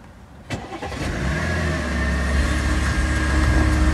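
An Audi A8 that has stood unused for three days starts up: a sharp crank and catch, then a steady rumbling idle that grows slightly louder and continues alone.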